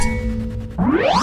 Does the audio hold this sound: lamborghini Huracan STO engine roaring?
no